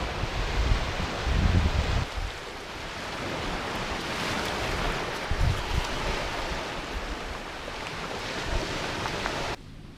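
Sea waves wash onto the shore in a steady, loud roar of surf with gusts of wind across the microphone, swelling heavier near the start and again midway, with no talking.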